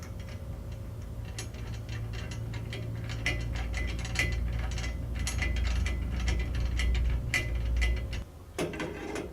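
Hex bolts being tightened with a ratchet through a trailer tongue jack stand and secured with nuts underneath: rapid, steady ratchet clicking, close and fairly loud over a low hum, broken by a short pause near the end.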